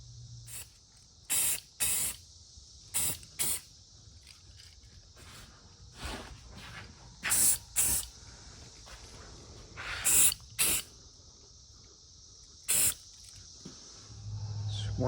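Short hissing blasts of spray paint hit a plastic model body of a 1939 Chevy Sedan Delivery, about nine quick bursts, mostly in pairs, with quiet gaps between.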